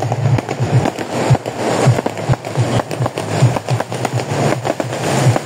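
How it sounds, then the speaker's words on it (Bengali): Fireworks set off on a beach in Johor Bahru on New Year's Eve, heard as a steady run of crackling bangs and sharp pops over a dense, noisy crowd-like wash, loud and continuous with no talk. "এখন ব্যাকে মানে বিচের সাইডে মূলত আতশবাজিটা ফোটাবে"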